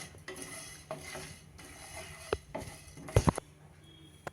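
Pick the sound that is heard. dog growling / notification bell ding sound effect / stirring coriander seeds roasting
stirring coriander seeds roasting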